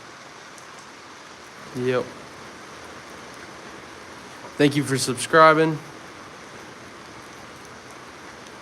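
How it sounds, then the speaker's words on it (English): Steady rain falls outdoors on a live stream, a continuous even hiss throughout, with a voice speaking briefly over it twice. "Yeah, it's raining."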